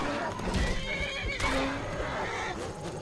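A horse in Skyrim whinnies loudly and close, a high wavering neigh with hoof clops underneath and a voice mixed in.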